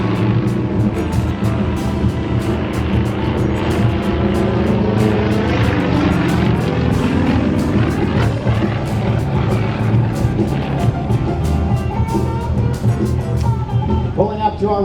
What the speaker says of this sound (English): All right, rolling the Yak 50, demonstrating the incredible roll rates in a full 360-degree vertical roll.